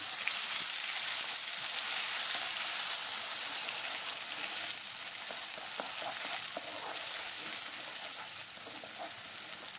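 Onion paste frying in hot mustard oil with cardamom, cinnamon and cloves for capsicum chicken gives a steady, close sizzle with occasional crackles and stirring, no voices.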